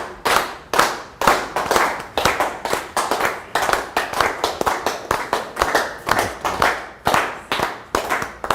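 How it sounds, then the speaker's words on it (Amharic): An audience claps to welcome an author onto the stage at a book event, a steady run of sharp, distinct claps in a loose rhythm, close and fairly loud, with no speech. "ሞቅ ባለ ጭብጨባ ደራሲውን ወደዚህ ጋብዙልኝ።"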